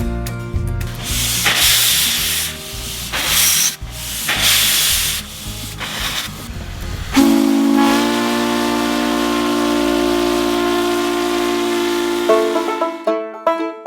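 A steam locomotive departs at Stettler, its whistle ringing out as a loud, sustained multi-tone blast after a stretch of hissing, rubbing mechanical noise, then cutting off sharply near the end.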